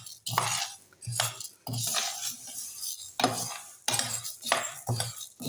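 A flaxseed ladoo mixture is stirred and roasted in a pan, with repeated loud scraping and clanking strokes of a spoon against metal in an uneven rhythm, close up and without talk.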